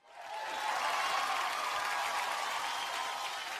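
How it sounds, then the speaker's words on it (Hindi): Loud, sustained audience applause fills a large hall at the Reno Star Guild Awards ceremony, swelling quickly and holding steady as a dense wash of clapping without a break. "जोरदार तालियां फॉर स्टार गिल्ड अवार्ड।"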